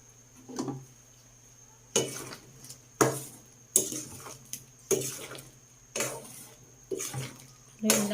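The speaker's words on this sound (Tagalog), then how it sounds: "Haluin lang po natin para matunaw po yung asukal." A spoon scraping and clinking against a metal pot while sugar is stirred into palatok with jackfruit, in about eight short, evenly spaced strokes over a low background hum.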